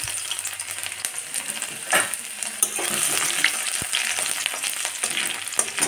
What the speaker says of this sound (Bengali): রসুনটাকে নেড়ে নিয়ে